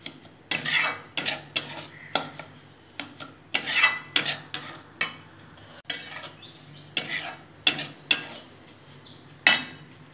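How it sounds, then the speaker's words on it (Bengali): A spoon or spatula stirs sugar into semolina in a metal pan for mohonbhog, making rhythmic, close scraping strokes against the pan with short pauses between them. "এখন আমি চিনিটা মিশিয়ে দিলাম।"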